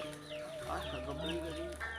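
Hen clucking close by in a farmyard, a few short clucks over steady low background noise with faint talk and other birds around.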